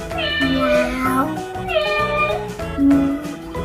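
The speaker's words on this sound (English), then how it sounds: "The cat says Meow" Three loud, clear cat meows come one after another, each long and drawn out, from a cat animal-sound example in an educational animal sounds lesson.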